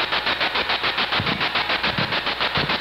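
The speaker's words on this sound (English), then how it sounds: "Alright, let's go ahead and turn the spirit box off for now." Spirit box sweeping through radio stations during a paranormal investigation, giving loud continuous static chopped into rapid, even pulses, a steady stuttering hiss with no voices.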